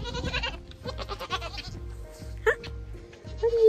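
A few goats bleat close by, two short distinct cries rising above a thumping, rhythmic background of movement and clatter.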